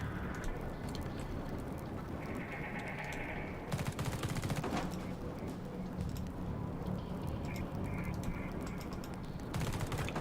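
Gunfire in The Red Solstice video game crackles as rapid, dense bursts of automatic shooting, with a steady rattling bed throughout and sharper volleys near the middle and the end, mixed with faint game ambience.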